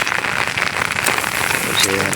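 Steady rain falling on a village river bank during a rainy day, a dense close hiss of drops on the surface with a brief voice near the end.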